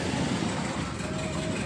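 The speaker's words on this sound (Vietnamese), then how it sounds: "Đây, tôi test máy cho anh em xem nha." A Yanmar diesel engine driving a 20 kVA generator set runs at a steady, loud, even drone during a test, with no voices.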